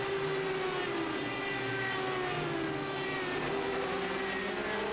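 Open-wheel race cars howl around the Rancho Cucamonga circuit in a season finale, a dense, continuous roar of several engines with rising and falling pitch as the field peels off toward pit road.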